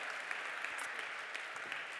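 An audience applauds panelists at a forum on democratic, climate-related participation, giving a brief burst of steady, fairly faint clapping that sounds like it comes from across a room.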